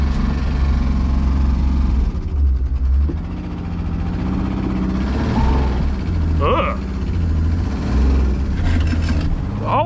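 A 1964 Rambler American wagon engine, just restarted after 26 years, idles high with a steady, fast low rumble up close while a person talks briefly over it.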